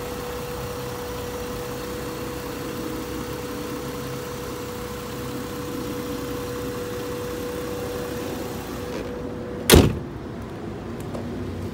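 The 3.2-litre engine of a 1995 Acura Legend coupe idles smoothly in a steady, quiet hum with a faint tonal whine. Near the end comes a single sharp thud like a door shutting.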